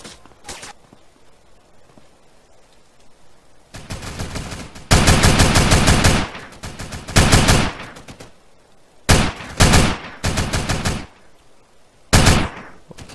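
Bursts of loud gunfire in a GTA San Andreas DYOM mission, separate volleys of rapid automatic shots broken by brief quiet gaps, with faint footsteps between them.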